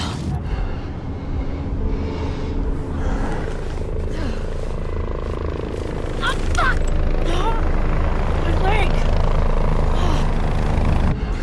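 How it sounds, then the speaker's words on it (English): A news helicopter in the video game The Division flies overhead, its rotor making a continuous heavy drone that grows slightly louder partway through, mixed with other game sounds. "News chopper."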